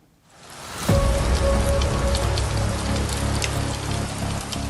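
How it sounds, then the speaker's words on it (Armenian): Egg-sized hail pelts down in Stepanavan, beginning with a sudden onset and building into a loud, dense, continuous drumming of hard impacts. "Ձվի չափ կարկուտ է տեղացել Ստեփանավանում"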